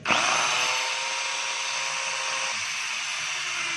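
A DeWalt DWE8200S angle grinder runs continuously after a sudden start, a loud, close, high-pitched whine that holds steady and drops slightly partway through.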